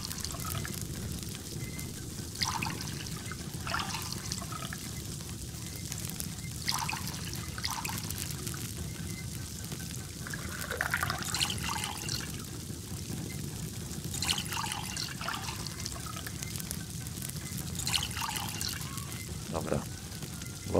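Running water in the Farmer's Life video game, a soft continuous trickle and pour with scattered drip-like splashes, fairly quiet and steady throughout.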